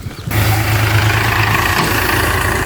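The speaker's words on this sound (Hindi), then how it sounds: "तो गाइस देखो ट्रैक्टर आ चुका है घर।" A farm tractor's engine rumbles loudly and close by, cutting in suddenly and holding a steady, heavy drone as it arrives home in wet weather.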